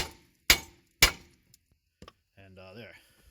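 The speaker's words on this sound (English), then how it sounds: "take your 3-pound hammer, and you want to strike right there. Give it a couple good raps" Two sharp, ringing metallic blows from a 3-pound hammer striking the lower ball joint of a Chevy Trailblazer's suspension, evenly spaced about half a second apart, followed by small clanks and a brief voice.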